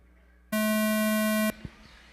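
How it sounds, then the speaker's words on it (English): A single loud, sustained electronic start tone sounds for about one second at a raceway, then cuts off abruptly, followed by a quieter background with a short click. "Let's go racing less than 5 on the sound of the tone."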